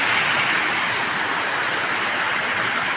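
Water pours through a village weir in a continuous loud, broadband rush, steady and close for the whole stretch, with no voices.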